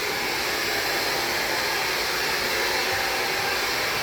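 Hair dryer blowing at a hair salon, a steady loud hissing whoosh of air that holds unchanged and close throughout, with no voices over it.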